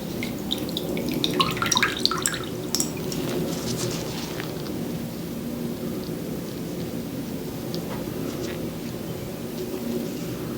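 Running water from a tap is used to rinse cleanser off a face during a close-up skincare session, a soft, continuous trickle and splash with light drips.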